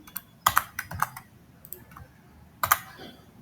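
Quick bursts of keystrokes on a computer keyboard while entering a MongoDB URL, a few clustered clicks early, a pause, then another short burst, close but fairly quiet over low room hum.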